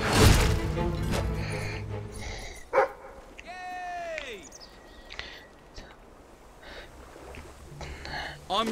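A dog barks and yips at a dig spot in the video game Fable III, a few short barks over background game sounds and breathy voices.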